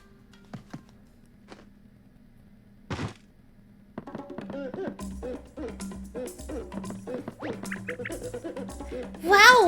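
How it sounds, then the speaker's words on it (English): Thumping of an animal in the video game Paper Mario: The Origami King, with soft cartoonish thunks and boings joining quiet game music, then a busier, louder passage of bouncy tones building toward the end. "That thumping sounds like donk donk."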